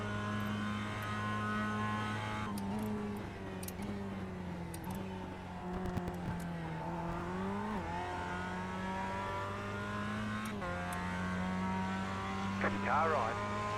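A race car in a sim racing game at Charlotte holds a steady engine drone with shifting pitch as another car runs alongside, while a spotter voice talks over it throughout.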